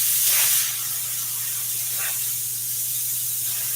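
An aerosol can sprays adhesive onto upholstery material in an auto interior shop, giving a steady close hiss with a brief stronger burst at the start and another faint puff midway.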